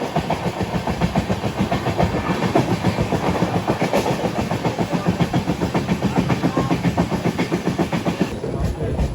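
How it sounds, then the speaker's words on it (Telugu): The Digha–Howrah Tamralipta Express rolls by on the rails, loud and close, with a continuous rumble and a steady clickety-clack that holds throughout before easing slightly at the end. "దిగా హౌరా తామరలిప్త ఎక్స్ప్రెస్."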